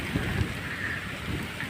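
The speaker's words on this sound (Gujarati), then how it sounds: "ઓહ માનને વરસાદ તો જો" Heavy rain pours steadily in a windy downpour, a dense continuous hiss close by with no other sounds standing out.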